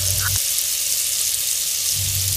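Strips of beef sizzle in melted butter in a pan, a steady close-up frying hiss running throughout, with a few soft clinks of utensil stirring near the start and end.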